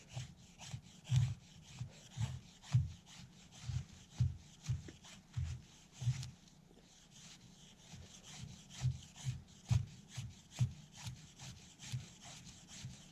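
An ESEE 6 knife with a flat grind shaves thin curls from wood in a steady series of soft, rasping strokes, quiet and close, with a short pause midway before the rhythmic scraping resumes.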